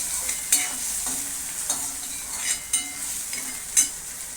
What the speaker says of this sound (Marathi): त्याच्यात टाकूया टमॅटो तोही परतून घेऊया